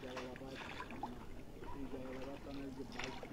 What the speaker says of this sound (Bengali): আমরা এখনো যাচ্ছি নৌকাতে করে।